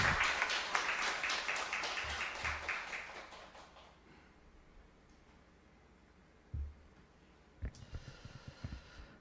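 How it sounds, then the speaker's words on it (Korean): A church congregation claps for several seconds, dense and fairly loud at first, then fades out, leaving a quiet room with a few faint thumps. "격려의 박수 부탁드리겠습니다."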